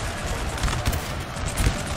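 Musket and artillery volleys crackle in a Napoleon: Total War battle at Znaim, dense overlapping fusillade shots with low booming thumps, a steady loud barrage with a few sharper peaks, no speech.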